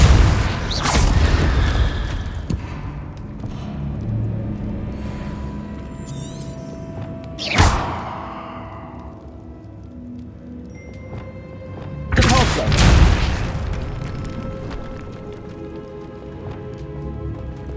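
Spell blasts in Hogwarts Legacy, including Confringo and Arresto Momentum: a few loud booming impacts with crackling tails, spaced apart across the stretch, with quieter magical shimmer and a voice calling spell names in between.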